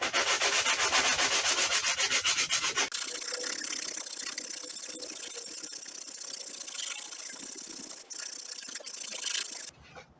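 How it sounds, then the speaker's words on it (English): Sandpaper scrubs steadily over Bondo filler on the ducktail spoiler of a 1992 Mazda MX5 Miata, a close, continuous rasping that starts bright and harsh, then settles into a softer, even rub before a brief louder stroke at the end. "I'm going to sand the rest of the spoiler down"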